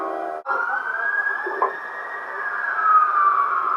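A wailing ambulance siren sounds continuously and fairly loud, its tone sliding steadily, with no one speaking.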